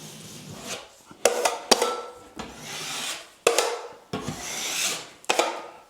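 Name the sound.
drywall knife embedding paper tape into joint compound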